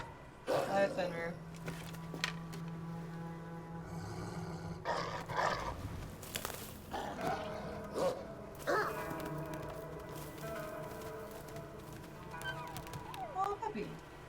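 A wolf pup's whimpers and growls in Assassin's Creed Valhalla, short vocal bursts mixed with game music and ambience, with people talking over parts of it.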